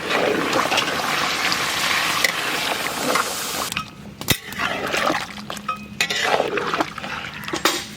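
Water pours in a loud, steady rush onto mutton in a cooking pot for biryani, then gives way to softer splashes and sloshing, with a faint voice in the background.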